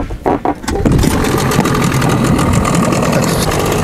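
A Stels 9.8 outboard boat motor is pulled over with a few short, sputtering bursts, then catches and settles into a loud, steady, close idle with a busy mechanical clatter.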